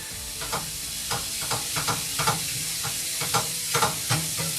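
Mushrooms toasting in a pan with thyme and paprika, a steady hiss and sizzle broken by regular soft scraping strokes of a utensil stirring, close up with no talk.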